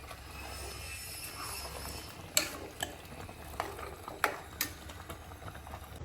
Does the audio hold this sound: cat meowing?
no